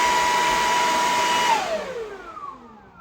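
A Makita backpack leaf blower roars at full speed indoors, aimed at a ceiling: a loud steady whoosh that holds, then winds down with a falling whine as the engine throttles back.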